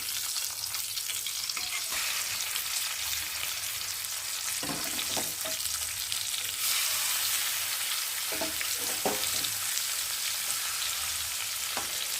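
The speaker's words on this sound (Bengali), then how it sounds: "এই তেলের মধ্যেই এই মাছগুলো আবার ভেজে নেব" Loud, continuous sizzling and crackling of pangas and tengra fish frying in hot oil throughout, with a few faint clinks of a utensil in the pan.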